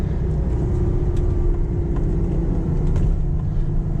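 A Ferrari FF V12 accelerates hard in second gear, a loud, steady, close engine roar and rumble sustained throughout with no talking.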